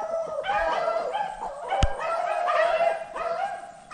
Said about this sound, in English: They still got dogs right there on the track.